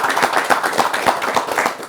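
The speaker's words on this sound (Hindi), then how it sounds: "चलो ताली तो बजा दें।" Studio audience on a televised sports-policy discussion breaking into hand clapping, a brief, dense and fairly loud patter of many hands with no speech over it.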